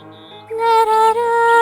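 A bird sings along with a lullaby in an animated fairy tale, a clear sustained melodic tone rising over soft low music, steady and close.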